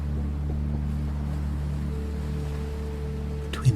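Distant ocean waves heard from a moving train, a steady low rumble and hum with a faint wash of surf beneath it and a small knock near the end.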